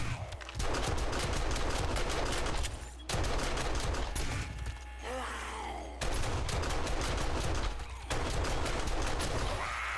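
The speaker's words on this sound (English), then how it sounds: "I'm getting shot by the turret" An automated turret in 7 Days to Die fires armor-piercing rounds in long, rapid, loud bursts of close gunfire, broken by short pauses, with a brief groan between volleys.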